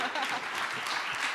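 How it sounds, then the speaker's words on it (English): A convention audience at a Comic-Con Baltics 2019 panel in Lithuania claps steadily, a dense, even wash of many hands kept up for the whole short stretch without pause. "Why are you clapping?"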